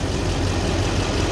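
Low, steady rumble of a Duramax LBZ diesel truck engine idling nearby, warmed up, constant and unbroken with no voices.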